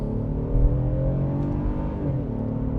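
A Honda Passport TrailSport Elite SUV accelerates in sport mode, with a steady engine drone rising slightly in pitch and a low rumble under it from inside the cabin.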